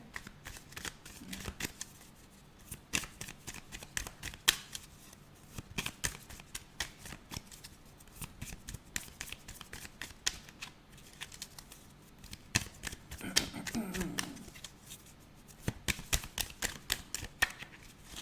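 Continuous rapid riffling and flicking of tarot cards, close and crisp, with a few softer shuffling pauses along the way.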